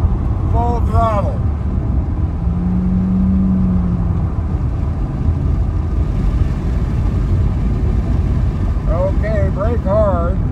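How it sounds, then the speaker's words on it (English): A Porsche race car at full throttle on a racetrack gives a loud, continuous engine roar with in-car rumble. A voice speaks over it at the start and again near the end. "Hit your mark, full throttle."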